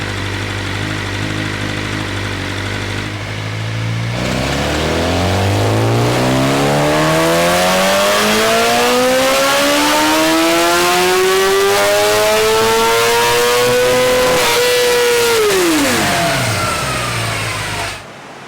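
A BMW M1000RR motorcycle engine running on a dyno in a poorly ventilated cell, loud and close, climbing steadily from a low drone to a high sustained wail, then dropping sharply as the throttle closes.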